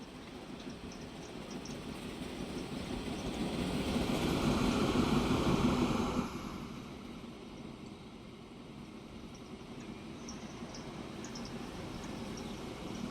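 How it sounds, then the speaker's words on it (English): A train arriving in the Transport Fever 2 video game makes a steady mechanical rumble that swells to a louder pass around the middle, then drops back to a quieter, even hum. "Comes the train now."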